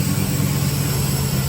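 A 1972 Camaro engine idles after a new MSD ignition install, holding a loud, steady low rumble with no talking.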